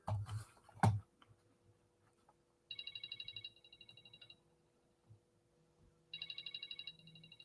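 A phone rings in two short bursts of a quick electronic trill, fairly faint and separated by a few seconds of near-quiet, with a sharp knock near the start.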